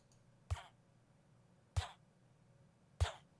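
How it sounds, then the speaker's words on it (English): Three short, evenly spaced thuds with a grunting edge come from Minecraft villagers being killed somewhere overhead. Each one is soft and slightly muffled, with quiet gaps between hits. "it sounds like it's actually killing our villagers up above"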